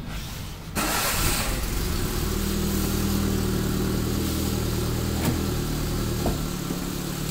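A 1999 Maruti Zen car fitted with a CNG kit starts up and idles on gas, its engine settling at once into a steady, close, even hum that holds without revving.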